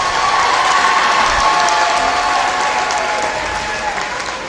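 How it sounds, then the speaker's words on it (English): A gym crowd at a high school basketball game applauds the boys basketball seniors, a loud sustained wave of clapping with scattered cheers that fades slightly toward the end. "Please give a hand for our boys basketball seniors."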